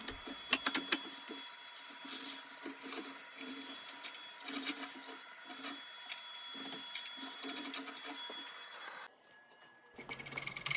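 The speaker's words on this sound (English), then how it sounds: "I'm coring these bowls out to just over an inch thick" A wood lathe with a Oneway coring rig cores wooden bowls, giving a faint, steady whirring hum with scattered scraping and rattling from the cutter, then a quieter stretch as the cut stops.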